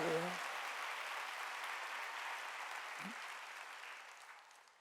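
A large congregation claps together during a Korean Wednesday church service, steady broadband applause from the start that slowly fades, with a brief voice heard at the very beginning.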